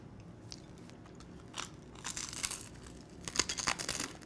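Crisp bites and chewing of crispy garlic bread served with kale pesto, a few sharp crunches up close building into a denser cluster of crackling toward the end, quiet and without talk.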